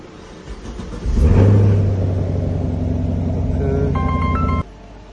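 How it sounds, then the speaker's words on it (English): A 2021 Chevy Camaro, just fitted with a reprogrammed key, cranks and fires up loudly, then settles into a steady, close idle rumble. Warning chimes beep over the engine before it shuts off. "Press the brake pedal, start the car."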